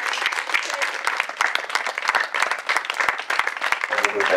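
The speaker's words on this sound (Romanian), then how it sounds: "Fiți bineveniți, să aplaudăm." An audience claps at an arts camp event, dense, brisk applause holding steady and close for several seconds before easing as a voice comes in at the end.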